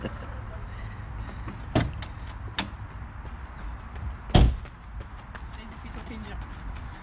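A part of a BMW Z4 M40i slammed shut: a few sharp thuds, with the loudest bang about two-thirds through, amid people talking nearby.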